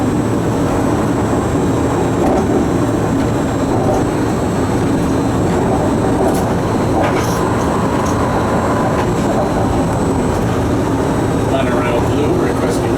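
Disney monorail ride heard from inside the pilot's cab, a steady loud rumble and hum of the train rolling along the beam, with occasional clicks and a voice talking over it.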